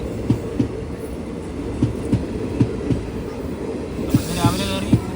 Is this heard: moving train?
yes